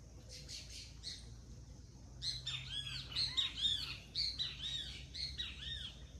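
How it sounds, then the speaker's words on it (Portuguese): Several small songbirds chirp and trill in quick bursts, growing busier after a quiet start, over a low steady outdoor hum. "aqui é o dia inteiro passarinho cantando"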